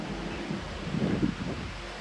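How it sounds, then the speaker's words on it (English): Strong wind gusts outdoors in a yard where concrete posts are being set for a feeder station, buffeting the microphone with a low, rumbling roar that swells and fades. "It's flipping windy"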